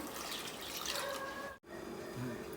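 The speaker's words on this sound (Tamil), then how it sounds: "வெல்லத்தில் நான் 1 கப்பு தண்ணி ஊற்றுறேன்." Water trickles and splashes into a pot of jaggery in a soft, steady pour, briefly cut off before continuing quietly.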